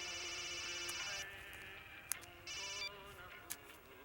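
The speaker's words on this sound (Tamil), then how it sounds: "ஃபோன் அடிக்குது கொடுங்க." A telephone rings faintly in the background, sounding in short repeated electronic bursts with pauses between them.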